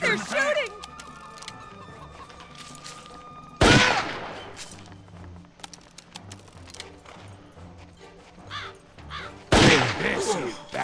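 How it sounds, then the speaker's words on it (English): Video game gunfight with two sharp, loud bursts of shots standing out against quieter clicking and background game sounds, while a voice talks intermittently. "They're shooting!"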